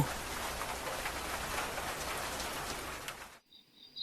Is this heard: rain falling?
yes